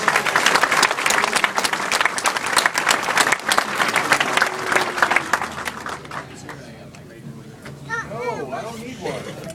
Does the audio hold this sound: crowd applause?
yes